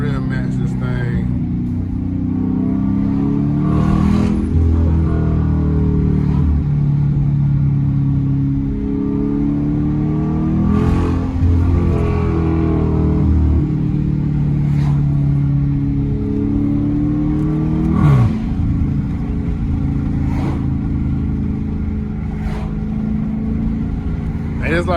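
A Dodge Charger R/T V8 engine rumbling and revving steadily throughout as it rev-matches through downshifts, with a loud, continuous low drone, rising blips and someone talking over it.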